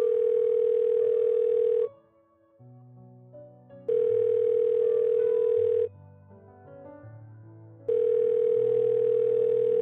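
Telephone ringback tone on an outgoing call: three loud, steady rings of about two seconds each, separated by quieter pauses with faint low hum, no voices.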